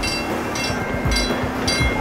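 A train rumbles steadily close by, its low roar and rattle running throughout, with bursts of hiss and clatter recurring every half second or so.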